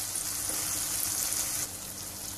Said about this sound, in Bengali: আর মাঝে মাঝে এভাবে নেড়ে দিতে হবে যাতে তলাতে লেগে না যায়